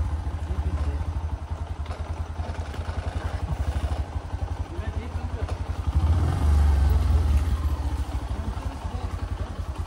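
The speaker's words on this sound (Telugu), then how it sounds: "I don't know how long my bike goes" A motorcycle rumbles steadily over a rough, uneven road toward a hidden waterfall, its engine close and continuous with rattling clatter and a brief louder surge partway through.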